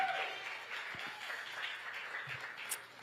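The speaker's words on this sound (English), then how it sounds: "Another round of applause, y'all," Applause from an audience at a Chicago book signing event, honoring Reverend Jesse Jackson Sr., a steady moderate wash of clapping sustained for several seconds at medium distance.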